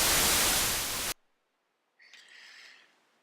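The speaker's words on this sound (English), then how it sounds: "And this is white noise." A burst of loud, steady white noise hiss that cuts off abruptly, followed by silence and then a fainter, higher noise.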